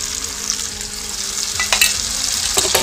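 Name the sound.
onion and garlic paste frying in a pan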